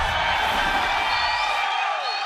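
Fight fans at a UFC 216 pre-fight press conference cheer and whoop as a dense, steady crowd roar with no pauses.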